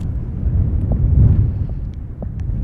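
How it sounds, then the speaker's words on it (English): Strong gusts buffet the microphone on an exposed mountain trail at Chiricahua National Monument, a steady low roar that swells and eases without pause. "Oh, this is crazy wind."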